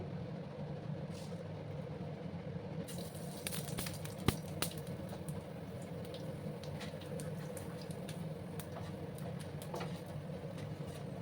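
Dried red chili, a bay leaf and five-spice seeds temper in hot oil, giving a soft, steady sizzle with scattered faint crackles and pops that thicken partway through.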